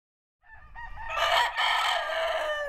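A single rooster crows loudly and close at a rooster sanctuary farm for rehabilitated cockfighting roosters in Bennett, Colorado, one long sustained call with no talking.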